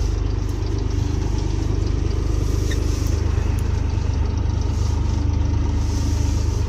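A vehicle on an agricultural field test with section control creeps along at about 12 km/h, its engine giving a continuous, even low drone and rumble close by throughout, with no voices.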